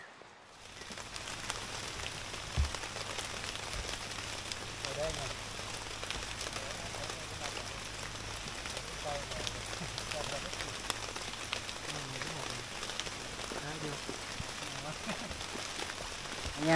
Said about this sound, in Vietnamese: Mưa mạnh đấy.